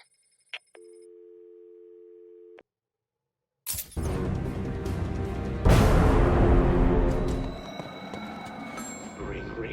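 A phone in Batman: Arkham City rings with electronic tones, then a sudden loud clatter and crash takes over with layered game sound effects and music.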